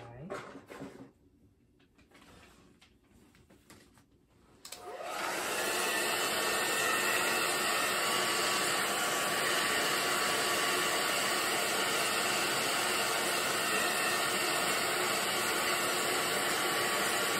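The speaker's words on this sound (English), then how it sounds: "I'm gonna dry this paint right here." A hair dryer drying acrylic paint on a geometric painting switches on after a few seconds of quieter handling noise, then blows with a loud, steady whooshing hum up close until the end.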